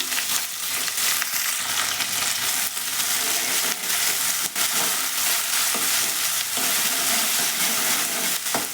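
Long-sliced onions fry in a pan and are stirred continuously, giving a loud, dense, unbroken sizzle with faint scraping running through it and no talking.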